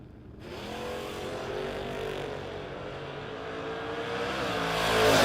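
Drag race cars, including a Mustang, running at a racetrack, a sustained loud engine roar with rising harmonic tones that climbs steadily in loudness toward the end, no talk.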